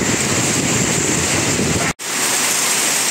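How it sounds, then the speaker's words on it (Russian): Heavy hail pours down in a downpour while gusty wind shifts direction, making a loud, dense roar that cuts out briefly and then returns slightly softer. "Град, ребята, и очень сильный град."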